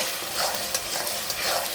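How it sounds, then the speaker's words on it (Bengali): Tomato paste frying in hot oil with onion, garlic and green chili over a high gas flame, a steady loud sizzle with occasional stirring scrapes. "এখন আবার আমি একটু কষতে দেবো"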